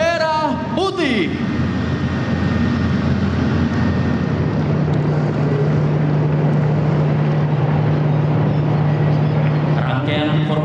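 Military helicopters of an Indonesian armed forces flight formation fly overhead during an anniversary ceremony, a loud continuous rotor and engine roar filling the air throughout, with brief tonal sounds at the start and end.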